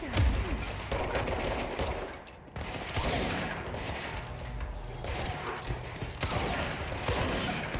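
A powerful weapon fires in the video game Control in a dense, continuous barrage of blasts and rattling bursts. It dips briefly at one point, then resumes loud and close.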